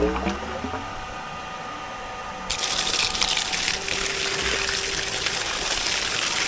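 Pumped water suddenly gushes into an above-ground pool in a loud, steady rushing flow after a quieter mechanical stretch, continuing strongly to the end.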